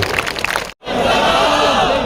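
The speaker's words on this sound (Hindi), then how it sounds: "अब मिलकर तालियां बजा दीजिए ताकि एहसान भाई शुरू हो जाए" A mushaira audience breaks into applause and cheering for the poet Ahsaan Qureshi: loud crowd noise, a sudden brief cut to silence, then a dense, sustained roar of cheering voices and clapping.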